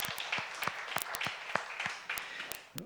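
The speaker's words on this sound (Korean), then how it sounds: "박수로 한번 감사 박수 하면" A congregation gives a round of thanks applause at a Friday late-night prayer meeting in a church, a dense, steady patter of many hands clapping throughout with sharper individual claps standing out.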